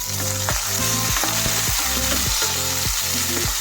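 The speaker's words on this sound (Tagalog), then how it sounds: "pwede na natin ilagay ang sibuyas. Then, isunod natin ang ating kamatis" Onion and tomato frying in a hot pan, loud close crackling sizzle with rhythmic scraping strokes of a spoon stirring through the pan, no voices.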